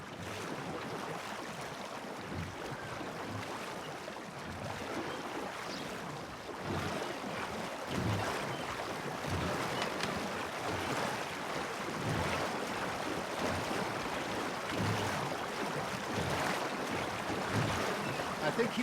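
A boat in Red Dead Redemption 2 pushes steadily through water, with a continuous soft wash and rushing wind-like noise at low volume for the whole stretch.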